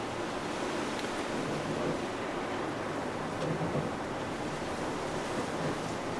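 Strong wind blows outside a small art studio with trees pushed against the building, heard as a continuous broad rushing roar, fairly loud and even, with no speech.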